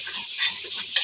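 Food fries in a little oil as it is stirred, a bright sizzle with soft scraping strokes of a utensil, close and continuous for a brief moment.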